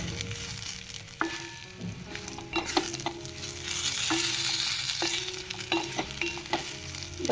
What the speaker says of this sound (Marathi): त्याला परत चांगला आणि 1 मिनिटभर परतून घ्यायचं आहे